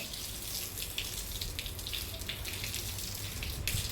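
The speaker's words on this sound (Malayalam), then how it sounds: "മതി പൈപ്പ് അടയ്ക്കട്ടെ" Water runs steadily from a tap in a continuous, even hiss of moderate loudness, with no voices over it.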